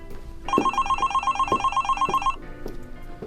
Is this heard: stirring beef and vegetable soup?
no